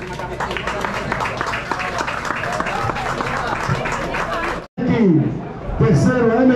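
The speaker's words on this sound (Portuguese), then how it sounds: "Vamos aplaudir, Master Belano" Audience applause and crowd chatter at a cycling race awards ceremony, a steady wash of clapping and voices that drops out briefly before a voice speaks over renewed crowd noise.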